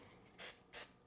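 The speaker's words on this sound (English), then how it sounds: "I am going to spray" Baking spray released from a can into a Wilton Texas-size muffin pan: two quick, faint hissing bursts separated by a short pause, with nothing else around them.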